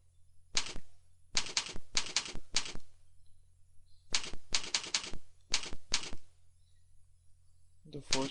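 Bursts of computer keyboard typing while a username and password are entered into a sign-up form on a travel booking demo site: quick clusters of close keystrokes separated by pauses, ending in a brief clatter.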